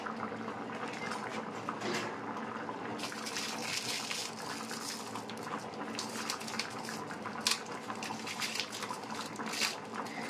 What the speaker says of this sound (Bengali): দেখুন এটা ফুটছে পুরো